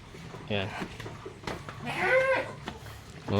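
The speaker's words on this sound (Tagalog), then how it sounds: "Oh, ang daming kambing sa labas oh." Goats bleat several times nearby, wavering cries rising over a person talking quietly in the background.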